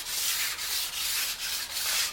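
Sharpening stone, a 400 grit stone, rubbed along the edge of a new ski, a close, gritty scraping in rhythmic back-and-forth strokes, each about a third of a second long.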